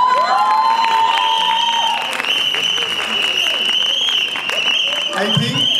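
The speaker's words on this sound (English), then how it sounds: "everyone over here, whoever has whistles, whoever has hands, has to give a ear-shattering applause to what Raghu and Sid have just done on stage" Audience at an evening theatre and storytelling show in Jaipur applauds and cheers two performers on stage, with steady loud clapping, whistles and shouts running throughout.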